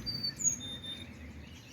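Faint, high chirps and tweets from birds in a tropical backyard garden in December drift over a soft, steady outdoor background, distant and intermittent.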